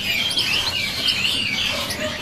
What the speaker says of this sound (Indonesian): Ini cak rawa Papua.